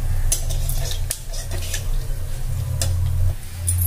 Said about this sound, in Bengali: 2 থেকে 3টে গোলমরিচ আর 2টো হলো এলাচ নিয়েছি। কয়েক সেকেন্ড এটা ভেজে নিতে হবে।